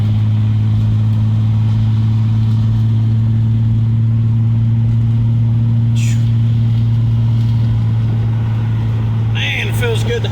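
Steady low drone of a car engine and road noise from inside a moving car on a night drive in southern Ohio, with freshly changed front shocks, continuous and close with a faint brief hiss near the end.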